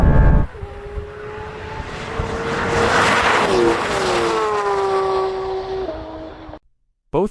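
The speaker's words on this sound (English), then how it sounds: "Both cars launch hard" A Porsche GT3 RS and a Maserati MC20 launch together in a drag race, engines roaring loud and rising in pitch through gear changes with tire noise, then cutting off abruptly near the end.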